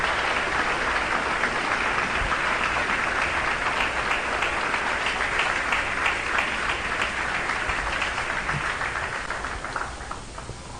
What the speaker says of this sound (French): Alors, applaudis, conférencier.